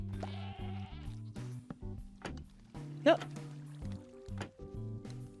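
A screaming goat in Minecraft lets out a short bleat early on. Soft game sounds, trickling noises and music tones play around it, and one sharp cry pierces the middle.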